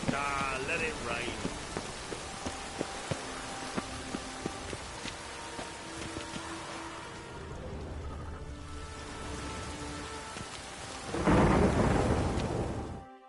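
Steady rain pours throughout in The Witcher 3, with a loud rumble of thunder swelling near the end; a voice speaks briefly early on and faint clattering taps recur.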